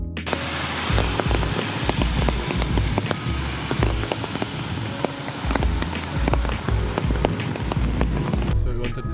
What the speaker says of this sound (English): unfortunately it's still raining after 1 hour of waiting